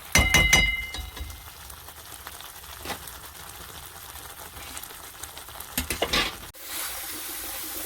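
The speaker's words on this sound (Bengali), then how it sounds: "ভালো করে মশলাটা ভাজা হয়ে গেছে, মশলার তেল ছেড়ে দিয়েছে" Spice masala fries in oil in a pan for a pea curry, giving a steady close sizzle with a few sharp clinks from a stirring utensil at the start and near the end.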